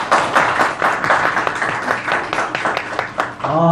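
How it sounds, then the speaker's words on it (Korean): A church congregation claps in welcome, a lively burst of overlapping hand claps with a fairly even rhythm, ending as a voice begins to speak at the close. "예, 박수로 환영하겠습니다"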